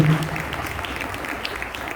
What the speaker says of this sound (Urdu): اب پہلے خداوند یسوع مسیح کے لیے زوردار تالیاں بجائیے